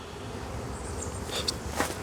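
Honeybees swarm around an abandoned hive box, a low steady buzzing hum from many insects close by, with a few brief louder passes and light rustles, no talking.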